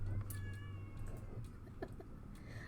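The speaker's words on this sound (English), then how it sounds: "I don't know if you guys can hear Kitty" A pet cat meows a few times at close range indoors, with a steady low hum running underneath.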